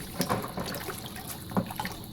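Activated carbon from an aquarium filter is rinsed in tank water during goldfish tank maintenance, giving short, close splashes and trickles that come in uneven little bursts.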